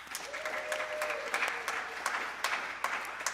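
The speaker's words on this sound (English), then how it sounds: "give yourselves a round of applause" A church congregation applauds together, a dense patter of many hands clapping at moderate volume, with a faint voice briefly under the clapping.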